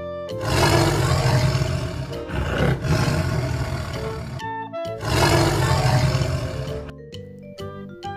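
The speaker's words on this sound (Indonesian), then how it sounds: "Harimau putih, teman-teman." A white tiger gives long, loud, rumbling roars in two sustained bursts, close and powerful, separated by a brief pause, with faint ringing tones at the end.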